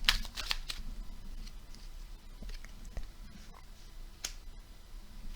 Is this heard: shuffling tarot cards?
yes